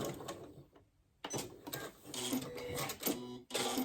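Sewing machine stitching a star-shaped potholder, short bursts of close rattling whir separated by brief pauses, including a clear gap near the one-second mark for back and front stitching.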